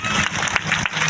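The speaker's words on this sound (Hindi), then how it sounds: "ताली बजाए।" Brief burst of audience clapping at a church prayer meeting, a quick scattered run of claps close by.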